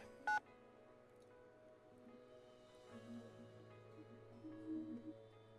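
A cell phone gives a single short, clear keypad dialing beep in a visual novel game, followed by soft, quiet background music.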